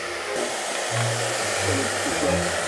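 A hair dryer blowing to warm up a camera, a steady close whooshing roar with a low motor hum that shifts pitch a few times, running throughout.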